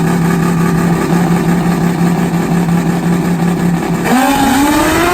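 Nitrous-fed 600-horsepower Pro Mod Suzuki drag motorcycles roar loudly and steadily at the line, then launch with a rising, climbing engine howl near the end, no voices present.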